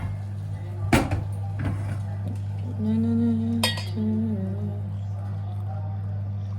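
A dessert spoon clinks against a drinking glass in a home kitchen, with a sharp tap near the start and a few lighter clinks after, close and clear over a steady low hum.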